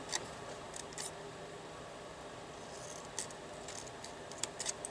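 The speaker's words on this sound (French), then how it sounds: "Et je prends des ciseaux plus fins pour la découpe ici." Fine scissors cut paper in quiet, sparse snips and crisp clicks scattered over a faint background hiss, close by with no talking.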